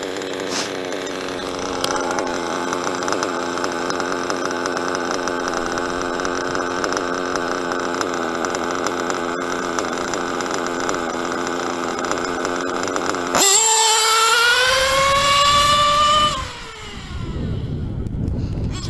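A rare Nero Toro engine idles steadily and loud up close for about thirteen seconds, then revs higher with a rising whine before dropping off abruptly.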